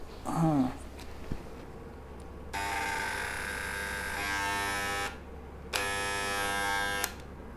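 A Wahl electric hair clipper, just reassembled, buzzes steadily at close range in two bursts separated by a short pause, with a brief rustle and tap before it starts.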